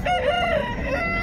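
A rooster crows once, a wavering drawn-out call over a thick, noisy background of clucking fowl at a busy chicken market in Kundarapalli, Krishnagiri district.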